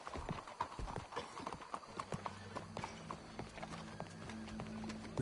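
Steady clip-clop of horse hooves in Red Dead Redemption 2, close and continuous, with a low rumbling hum joining partway through.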